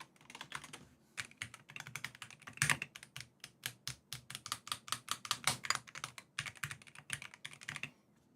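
Rapid, uneven keystrokes on a mechanical keyboard being sound-tested during a keyboard modding session, crisp and close, with a few louder bottom-outs and brief pauses between bursts.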